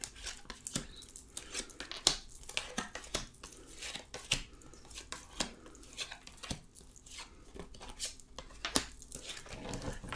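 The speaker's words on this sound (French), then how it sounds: "Alors, on va recouvrir ces cartes." Tarot cards being covered and handled on a table, a series of soft, irregular papery slides, taps and rustles, fairly quiet and close, with no voice.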